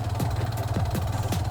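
A Hero Xtreme 125R motorcycle engine idles on an off-road track, a low steady putter with faint rhythmic pulsing, close and alone without talk.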